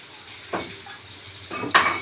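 Spoon stirring chopped ash gourd stems with spices in a pan, giving a few soft scraping clatters at close range, with a brighter metallic scrape near the end and a faint sizzle in between.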